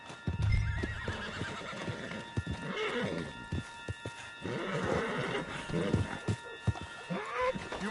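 A horse in the Red Dead Redemption 2 video game snorts, whinnies and clip-clops at close range, with game voices talking over the animal sounds.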